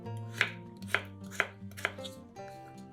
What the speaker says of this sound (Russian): Остальные 400 грамм картошки нарезаем небольшими кусочками.